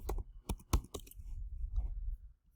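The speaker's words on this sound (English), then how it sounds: "I don't know if I can type it." Fast keyboard typing at a computer, a quick burst of crisp key clicks early on, then softer tapping over a low background rumble, close and fairly loud.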